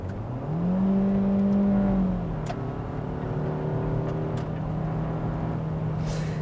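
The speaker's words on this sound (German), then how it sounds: "Aber bevor wir jetzt unsere Süßspeise essen, geben wir noch einmal Gas, Sportmodus." A Nissan Qashqai 4x4 with a 158 hp engine accelerates in sport mode on a snowy road, its engine note climbing in pitch, then dropping at a gear change and settling into a steady hum with tyre and road noise.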